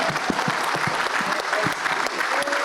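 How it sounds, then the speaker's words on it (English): Audience applause after a film screening and Q&A in Austin, Texas, steady clapping from a crowd throughout, with some voices mixed in. "Give yourself a round of applause real quick,"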